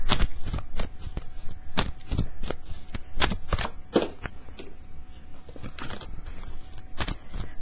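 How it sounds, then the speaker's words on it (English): Crisp, rapid riffling bursts of tarot cards being shuffled, repeated in quick irregular clusters, close and clear with brief pauses between shuffles. "Fast forward if you don't want to see the shuffling."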